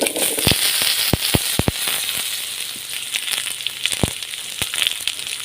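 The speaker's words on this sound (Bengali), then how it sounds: "ধোকা ভাজার তেলেই আলু ভেজে নেব।" Potatoes fry in oil already used for frying dhoka, with a continuous sizzle broken by sharp, irregular pops and crackles, loud and close, and no talking.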